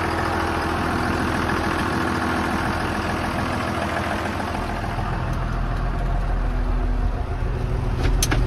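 Tractor engine idling evenly, a loud, steady low rumble running throughout with no talking over it.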